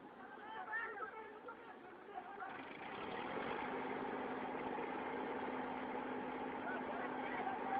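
A tractor engine idles steadily with a constant mid-range hum, growing louder and fuller partway through, while people chatter over it in a rural setting.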